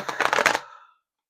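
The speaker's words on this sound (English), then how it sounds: "you can't say this deck isn't shuffled." A tarot card deck is shuffled in one quick riffle, a short burst of crisp flicking and snapping that ends in under a second, close and alone.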